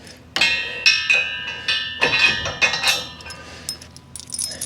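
Metal washers and bolts clink and jangle during assembly of a Mototote Max motorcycle hitch carrier, a run of bright irregular metallic taps and rattles, close and fairly loud, with no talk over them.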